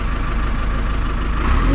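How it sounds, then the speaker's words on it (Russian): A heavy diesel excavator engine idles steadily and loudly up close, a continuous low rumble with no other sounds. "Это двигатель или это..."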